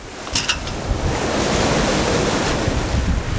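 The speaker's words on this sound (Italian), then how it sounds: "Le onde si frangono sulla barca sollevando colonne d'acqua che si abbattono dalle vele al pozzetto coprendo tutto di acqua e sale." Strong wind roars over a sailboat at sea in about 30 knots, with waves breaking against the hull and spray crashing onto the deck; a loud, steady rush with a brief splash burst near the start and no voices.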